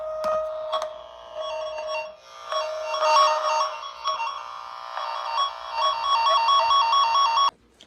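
A cable toner's tone generator signal sounds through speaker wire in a ceiling speaker installation, a moderately faint, continuous warbling electronic tone alternating between pitches, like a ringing phone, steady for several seconds before stopping.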